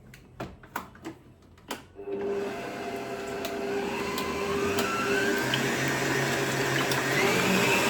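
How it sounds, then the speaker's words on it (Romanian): Leftover egg whites are beaten until foamy, most likely with an electric mixer: a few knocks, then from about two seconds a steady, close whirring motor hum that rises slightly in pitch and continues to the end. "Și batem puțin până când se formează puțină spumă."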